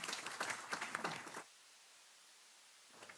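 A short burst of clapping from a small audience at a county Board of Supervisors meeting, welcoming visiting students, fading after about a second and a half into quiet room tone before a faint voice returns.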